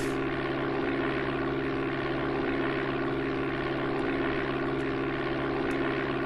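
Steady propeller aircraft engine drone in flight from the Amiga game Flight Simulator II, after takeoff from Elkhart Municipal airport, Indiana: a continuous, even, buzzing hum with no talk.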